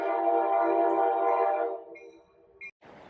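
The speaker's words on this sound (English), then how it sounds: "And the train's coming by." Train passing by an urban backyard garden, a loud sustained rumbling roar up close that fades away, followed by short horn-like tones and a brief burst of noise at the end.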